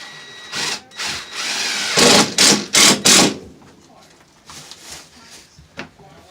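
A power drill drives 3-inch screws into wood while replacing a bathroom floor, several short loud whirring bursts in quick succession, then quieter tool handling and faint knocks.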